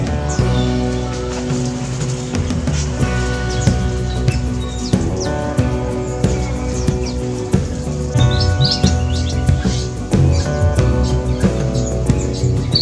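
Pancawarna, a songbird endemic to Sumatra, sings loud and close in a rapid, continuous run of varied chirps and tweets with no pauses, layered over a steady, dense background.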